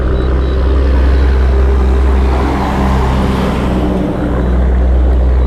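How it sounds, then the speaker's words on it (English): A beer truck passes along a roadside in Bull Bay, Jamaica, a loud, close, continuous engine roar and heavy road rumble that swells and eases slightly as it goes by, with no talk over it. "A beer truck."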